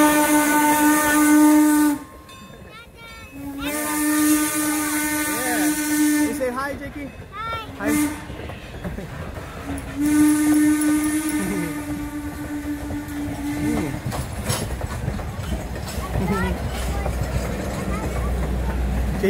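Three long steam whistle blasts with a hissing edge, separated by gaps, as a steam train passes and rumbles on at Cherry Crest Farm in Lancaster, Pennsylvania, with people chatting nearby.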